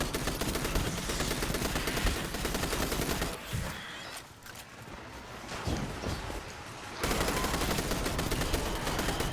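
Rapid, dense gunfire from a weapon in the video game Destiny 2 rattles loudly and continuously, breaks off into quieter scattered shots midway, then resumes at full intensity with no voices.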